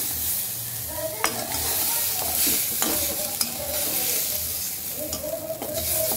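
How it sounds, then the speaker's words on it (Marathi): Ground masala paste is stirred and roasted in a kadhai for matar paneer, giving a continuous close sizzle with scraping spatula strokes and occasional light clinks. "चांगलं भाजून घ्यायचं आहे आपल्याला सगळं वाटण"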